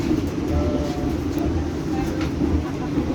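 Steady low rumble and rattle of the KA Majapahit train running, heard inside the restaurant car, a continuous close drone with faint background voices.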